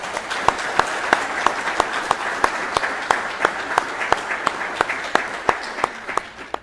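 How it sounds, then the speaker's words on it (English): Steady, moderately quiet applause at a graduation ceremony for award recipients at a training center, with distinct individual claps repeating at an even pace above a soft wash of clapping for several seconds. "Please join me in giving a round of applause for all our award recipients."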